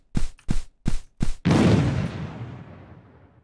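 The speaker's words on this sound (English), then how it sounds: "when the player interacts with it, it will explode and disappear" Teddy bear object exploding in the RPG Developer Bakin game: four sharp thumping bangs in quick succession, then a loud booming blast that decays over about two seconds.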